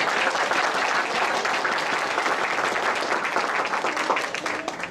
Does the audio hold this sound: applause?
yes